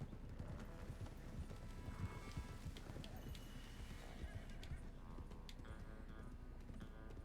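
Horses in the video game Red Dead Redemption 2 trot with steady clip-clop hoofbeats and an occasional whinny over a continuous outdoor rumble, with faint voices at times.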